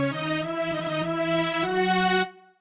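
A sustained digital string arrangement for a Y2K-style R&B beat, rich layered chords with a filter and volume swelling in quarter-note pulses, shifting chord midway before fading out.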